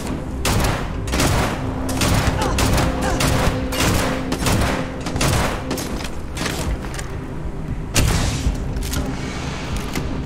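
Rapid gunfire in the video game Starfield, with dense bursts of shots and booms layered continuously over a loud game soundscape, punctuated by sharper cracks; no speech.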